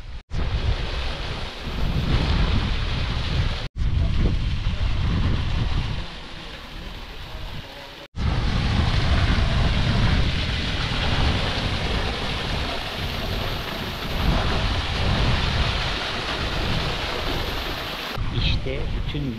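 Heavy downpour outdoors on a road trip through Turkey, a dense, loud, continuous hiss of rain mixed with strong wind noise on the microphone, broken by two brief cuts.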